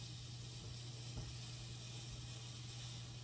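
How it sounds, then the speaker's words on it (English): Mushrooms sautéing in a pan while a crustless turkey sausage quiche is prepared, heard as a faint, steady sizzle with no distinct pops, and no one speaking. "our mushrooms are all sauteed now"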